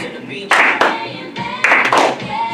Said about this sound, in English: clap your hands, y'all